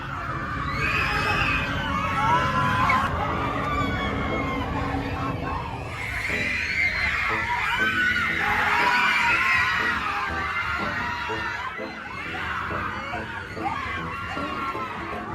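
A cinema audience at a sing-along screening of K-pop Demon Hunters, children among them, shouts and screams in a dense, continuous roar, loud and steady from start to finish.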